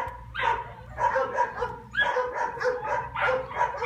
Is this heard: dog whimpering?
yes